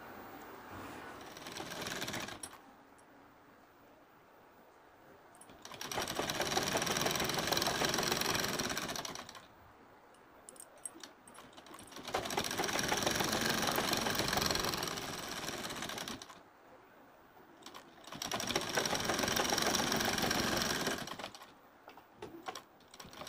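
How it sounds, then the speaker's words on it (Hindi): An electric sewing machine stitches along the folded edge of a pillow cover fabric, running in three long whirring bursts separated by quiet pauses, close and fairly loud. "तो दोनों पल्ले को हम इस तरह सिलाई लगा लेते हैं।"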